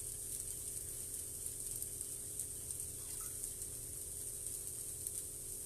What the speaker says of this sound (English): We've got our bacon crumble cooking right here